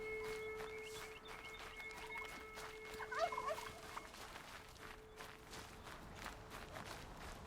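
Mechanical turkeys in the video game Horizon Zero Dawn make a few faint, warbling gobbles, mixed with light scurrying footsteps and a steady tonal hum, no voices.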